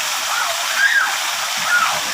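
Pinagpatungan Falls, a waterfall fed by fresh mountain water, roars in a steady, close, full rush of falling water that never lets up, with faint voices in the background.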